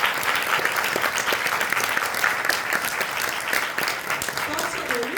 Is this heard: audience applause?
yes